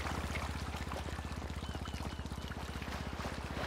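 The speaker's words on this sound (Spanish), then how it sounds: "Se escucha por aquí un motor, ¿eh? Una lancha, quizá." A motorboat engine in GTA V chugs in a fast, steady pulsing rhythm, loud and continuous throughout with no break.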